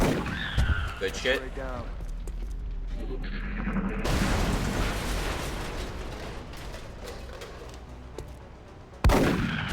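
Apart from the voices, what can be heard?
gunfire in video game XCOM: Enemy Within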